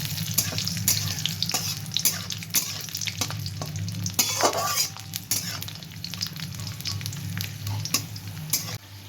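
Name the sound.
peanuts and raisins frying in a pan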